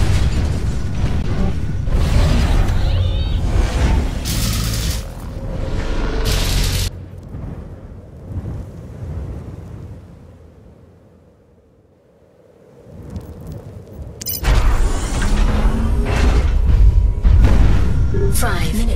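Rocket explosions in the mech shooter Hawken boom in heavy, repeated bursts, then fade to a quieter lull before loud blasts return, with a player's voice talking over the game sounds.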